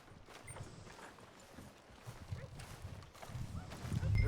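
Horse hooves clip-clop in the Red Dead Redemption 2 video game, a soft, steady patter of footfalls over low ambient noise that builds toward a louder rumble at the end.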